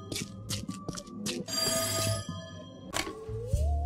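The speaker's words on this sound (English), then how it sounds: "Pick up the phone, dammit!" A telephone rings repeatedly inside the video game There Is No Game, its bursts in an even rhythm over a steady musical background, fairly loud and close.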